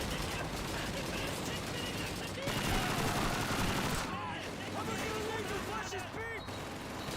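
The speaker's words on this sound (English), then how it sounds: "Oh shit, Panzer II. With an autocannon." Gunfire from a Panzer II autocannon in the video game Fire Warrior, a loud dense fusillade of rapid shots and explosions layered with game sound and voices throughout.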